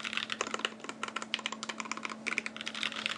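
Rapid, continuous typing on a mechanical keyboard with Gateron Milky Top yellow switches and no O-rings produces quick, fairly quiet clacks in an uneven rhythm, with no voices.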